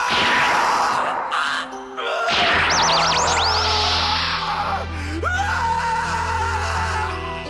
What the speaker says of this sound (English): Now here's Yusuke screaming.